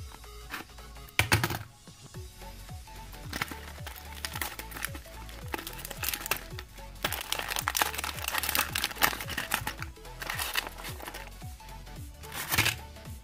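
Cardboard packaging for a fidget spinner with lights is cut open close by, a run of quick crinkling, scraping cuts and rustles with brief louder bursts, fairly quiet overall.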